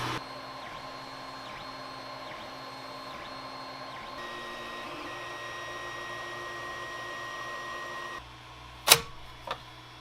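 A 3D printer runs steadily on large parts bins, its stepper motors whirring in a continuous drone with shifting tones, then quieting near the end before a couple of sharp clicks or knocks.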